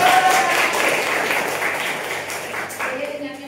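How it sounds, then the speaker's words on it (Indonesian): A class applauds student Cika, a brief burst of clapping that fades gradually while a voice speaks over it. "Oke, tepuk tangan untuk Cika."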